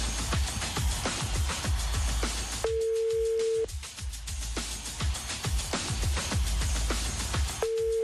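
An outgoing phone call's ringing tone, two long steady beeps spaced several seconds apart, sounding over busy, noisy background studio audio.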